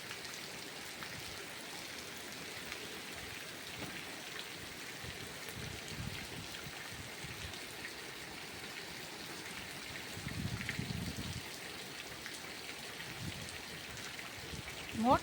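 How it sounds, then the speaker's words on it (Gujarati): Heavy rain pours steadily over waterlogged farm fields, a continuous hissing wash with a louder surge near the end and faint voices now and then. "જો હવે વરસાદ વધ્યો,"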